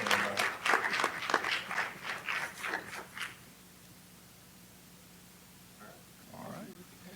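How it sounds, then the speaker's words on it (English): Clapping at a school board meeting, a brief burst of many hands lasting a few seconds, fading into a quiet room with low hum and a faint murmur afterward. "Clap it up one more time."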